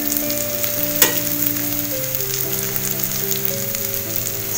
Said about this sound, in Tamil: ரெண்டு பக்கமுமே பொன்னிறமா வரைக்கும் வறுத்து எடுக்கணும்